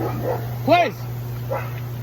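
A pet dog indoors gives a single sharp bark in the middle, with a fainter yip later. Someone talks around it over a steady electrical hum.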